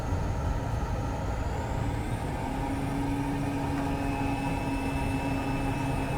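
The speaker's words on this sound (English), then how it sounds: "There's touchdown, and we'll just come straight onto the brakes" A Pilot PC-6 aircraft in Microsoft Flight Simulator rolls out on the runway after touchdown under braking, giving a loud, steady engine and rolling drone with a sustained tonal whine that enters midway, without any talking.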